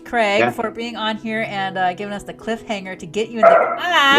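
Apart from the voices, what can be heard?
dog barking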